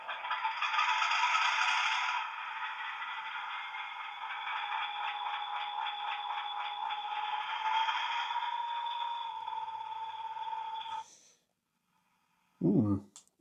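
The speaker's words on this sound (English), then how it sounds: "Well, it's making diesel sound noises." A Hornby Class 50 "Illustrious" model diesel locomotive under DCC power plays its diesel engine sound, a steady rattling drone lasting about eleven seconds before cutting out, followed by a brief low thud, with the model standing still.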